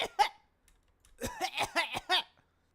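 Recorded human coughs: one short cough at the start, then after a pause a quick run of four or five harsh coughs, close and fairly loud, with no talk.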